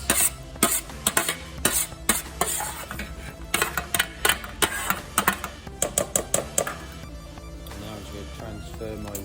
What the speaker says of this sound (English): I'm just going to fold, mix my bacon and onion mixture through my eggs, just to make sure it's well incorporated